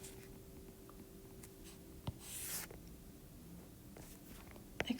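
A pen or marker scratches out solution curves by hand in soft, intermittent strokes, quiet and close, with a couple of sharper taps near the end.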